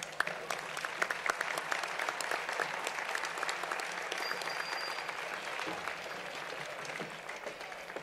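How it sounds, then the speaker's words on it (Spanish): Applause from an audience at a municipal awards ceremony honouring a recipient, a steady, fairly distant wash of clapping that carries on evenly for the whole stretch without speech. "Un fuerte aplauso."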